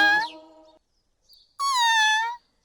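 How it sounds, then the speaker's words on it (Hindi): A cat meows twice, close and clear: a short falling cry, a pause with a faint squeak, then a longer, drawn-out meow, with no other voices. "वो बिल्ली की आवाज थी ना?"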